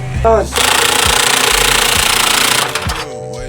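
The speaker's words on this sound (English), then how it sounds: "Get me the rattle gun down here." Pneumatic rattle gun (impact wrench) hammering on a car engine bolt during a Barra engine swap into an RX8, a loud, fast, steady rattling burst of about two and a half seconds, close up.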